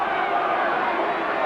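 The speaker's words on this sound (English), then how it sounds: "The crowd are now beginning to get behind them" A rugby league test crowd at a 1980 New Zealand versus Great Britain match, a dense, steady roar of cheering that fills the whole moment, loud and continuous with commentary mixed in.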